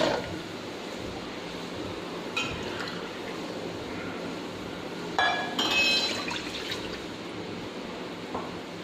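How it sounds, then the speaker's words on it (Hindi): Water poured into a cooking pot while making black pepper chicken karahi, a steady liquid wash with a few glassy clinks and splashes partway through, fairly close with no talking. "तो अब इसमें डालेंगे 2 कप पानी,"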